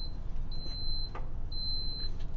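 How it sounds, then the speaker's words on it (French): Two sustained high-pitched electronic beeps from a Singer 36-inch ironing press, signaling it can be opened, each lasting about half a second, over a low steady hum. "dès que la machine se met à biper, ça veut dire c'est beau, vous pouvez ouvrir"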